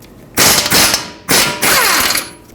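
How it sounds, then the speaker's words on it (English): A ratchet with a 21mm socket loosens the caliper bracket bolts on a Ford F-150's front knuckle, giving two loud, fast clicking bursts, close up. "use a 21mm socket and remove the 2 bolts holding the caliper and bracket assembly onto the knuckle"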